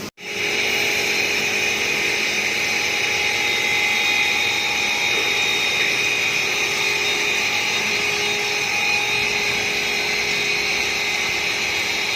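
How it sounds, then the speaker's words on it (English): A steady, loud hiss of high-pressure spraying cleaning car engine components at an auto service garage runs continuously, mixed with a mechanical whine, without pause. "So they have to do some spraying to clean the engine components."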